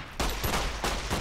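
Gunfire from a weapon in Fallout: New Vegas, a short dense burst of loud, close shots lasting about a second with no talk over it.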